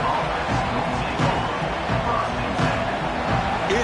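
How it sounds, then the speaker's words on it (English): A stadium crowd in the NCAA 26 college football video game roars steadily at an early point of a game, a dense, constant wash of noise with no break. "It's early, but this crowd is fired up."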